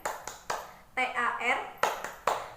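A classroom does a patterned clapping chant: a few sharp, evenly spaced claps, then a short sung chorus of voices, then two more crisp claps, all close and fairly quiet.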